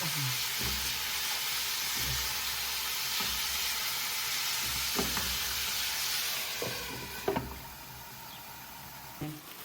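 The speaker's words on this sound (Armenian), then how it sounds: "Երկու հատիկ սխտորներ մի փոքր տապակենք, դդմիկի հետ" Two garlic cloves fry with zucchini in a pan, a steady nearby sizzle with intermittent scraping stirs and a few sharper clacks of the utensil toward the end.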